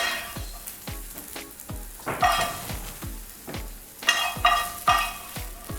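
Vegetables go into a simmering sauce in a pan, with regular sharp stirring knocks and scrapes over a soft bubbling sizzle that swells in brief louder bursts.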